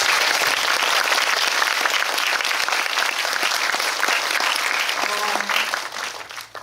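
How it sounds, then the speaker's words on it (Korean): A packed cinema audience at a film talk event for the movie Decision to Leave gives dense, loud, sustained applause that runs unbroken for several seconds, then eases slightly at the end. "큰 박수를 좀 부탁드립니다"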